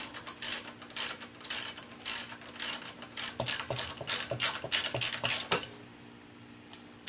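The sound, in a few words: ratchet removing brake line bolt on Skyline hub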